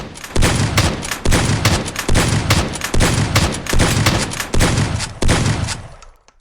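Repeated heavy gunfire from a combat shotgun and hunting rifle in an arena shooter video game, roughly six loud blasts at steady intervals, each a broad booming crack, with a ringing tail fading at the end.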